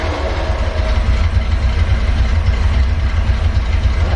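A Ford Bronco engine idles with a loud, steady rumble close by, holding an even pitch throughout with no voices over it.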